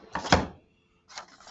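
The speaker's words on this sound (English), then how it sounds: "just knocked my phone off the hook" A phone is knocked off its holder on a desk and clatters. There is a sharp, close knock and rattle, a short silence, then a second softer burst of clattering as it settles.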